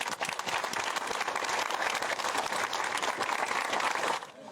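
A crowd at a memorial gathering for Nathalie claps in sustained, dense applause, loud and steady for about four seconds before cutting off abruptly.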